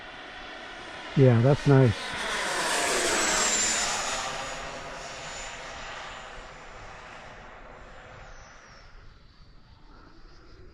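An FMS F-86 radio-controlled model jet passes overhead with a rising then fading whoosh and whine, moving from near to far, after a brief spoken remark.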